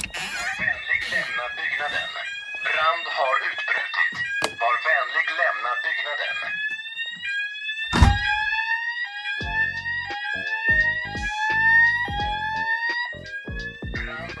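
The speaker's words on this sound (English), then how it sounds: "I have a voice sounder down there, which is very cool" An Esmi ESCO fire alarm voice sounder goes off in a basement, putting out loud rising and falling electronic tones and rapid repeating beeps, with a voice-like passage near the start.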